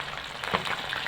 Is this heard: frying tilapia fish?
yes